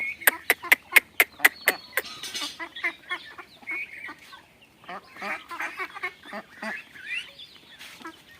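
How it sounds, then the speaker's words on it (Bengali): Grown farm ducks call in a lively run of close, overlapping quacks and clucking notes, which follow a string of sharp, evenly spaced calls at the start, with no talking over them. "এগুলো আমার বড় হাঁস।"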